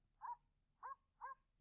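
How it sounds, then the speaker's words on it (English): A recorded dog bark plays three times in quick succession as short, clean yips with brief gaps between them, alone against a quiet background. "you can hear that it played my dog sound"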